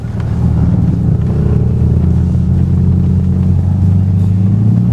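A Porsche on a test drive over uneven pavement with speed bumps: a steady, loud low engine drone and road rumble heard from inside the cabin, continuous with no break.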